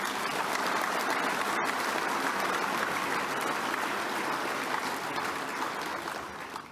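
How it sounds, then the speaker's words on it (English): A luncheon audience at the Prime Minister's Lachlan Macquarie Lecture gives continuous, loud applause, a thick unbroken roar of many clapping hands that fades slightly at the end. "Give her a clap."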